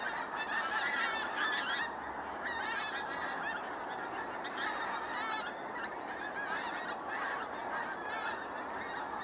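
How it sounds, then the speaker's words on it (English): A flock of geese honks repeatedly and loudly throughout, their calls overlapping over steady outdoor background noise, with no talking. "Today's video is just going to be interrupted by these honking geese."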